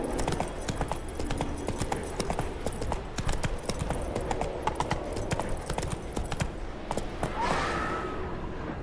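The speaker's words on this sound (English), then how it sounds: "Giddy up. Run, Roach." Horse hooves gallop in The Witcher 3 video game, a steady, fast clip-clop rhythm running throughout at moderate loudness, with a brief breathy whoosh near the end.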